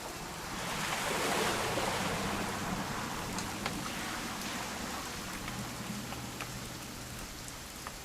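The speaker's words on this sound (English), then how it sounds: "It's gonna rain the whole weekend, isn't it?" Steady rain falls in the video game What Remains of Edith Finch, a soft, even patter with scattered droplet ticks that swells slightly early on and then holds at a moderate level throughout.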